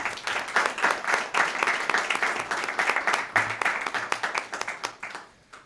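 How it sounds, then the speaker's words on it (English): Audience applause at a school district board meeting, honoring the students of the school drama program: dense, steady clapping from a room full of people that keeps a lively rhythm for several seconds before tapering off at the end. "So let's give them a round of applause."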